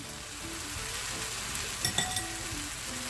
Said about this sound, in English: Stir it a little bit together with the vegetables.